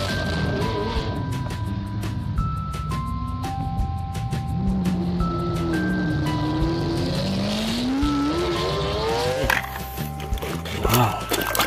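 A toy race car's sound effect: a rising, revving engine tone and squealing skid noises over a cheerful musical jingle, loud and continuous for the whole stretch.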